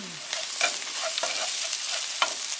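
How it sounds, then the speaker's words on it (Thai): Yen ta fo noodles stir-fried with sauce and mala in a pan, with steady close sizzling and repeated scraping strokes of a utensil against the pan. "ผัดซอสเย็นตาโฟครับมื้อนี้บวกกับมาล่า"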